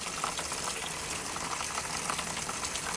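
Water drains from the hot water tank of a Sabre fifth wheel trailer during winterizing, a steady gushing, bubbling rush with no break across the few seconds.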